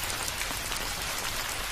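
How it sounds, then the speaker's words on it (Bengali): Heavy cartoon rain pours down in a dense, steady hiss of countless drops, uniform and unbroken for the whole short stretch, with no voices. "এত বৃষ্টির মধ্যে তো পথ চলা অসম্ভব।"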